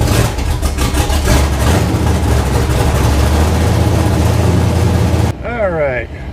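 A Pro Street Starfire car's engine idles loudly and steadily close by with a deep rumbling drone, with voices speaking over it, then the engine sound drops away and only talk remains at the end.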